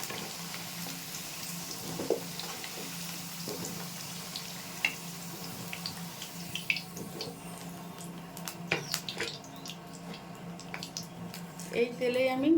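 Taro (kochu) pieces frying in hot oil in a pan, a soft steady sizzle with occasional pops, clinks and stirring knocks, under someone talking.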